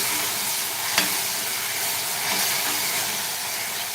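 Green masala paste sautés in oil in a pan for a black chickpea curry, giving a steady, loud sizzle with a brief scrape of stirring near the start and no voices.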